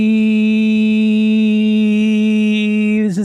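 A voice imitates a moped with a steady, loud buzzing drone held for about three seconds, then breaking off with a short pitch wobble at the end.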